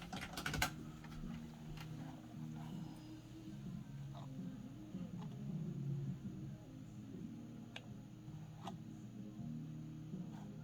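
Someone types a search on a computer keyboard, a burst of quick close clicks at the start followed by scattered single keystrokes over a low steady background hum.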